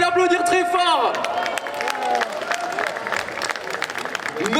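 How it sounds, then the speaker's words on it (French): Crowd applause at a cosplay festival raffle for the winner of a katana, loud clapping mixed with cheers and whoops, with excited voices over the start and the clapping carrying on underneath. "vous pouvez l'applaudir très fort"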